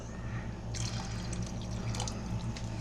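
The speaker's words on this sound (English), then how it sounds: "So let's add half a can of water." Water pours into a pot of unstuffed cabbage rolls, a half can's worth, making a steady splashing stream with a few brighter drips and gurgles near the end over a low kitchen hum.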